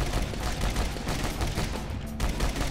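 Rapid, dense gunfire from the co-op video game Final Exam comes as a continuous fusillade of close, loud shots with a thick low-end thump, with no pause in the firing.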